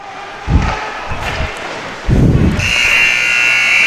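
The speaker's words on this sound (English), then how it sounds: "As the buzzer sounds, ending period number 1." Crowd noise and a few thuds at a varsity hockey game, then a loud, sustained arena buzzer ending the first period starts partway through and keeps blaring to the end.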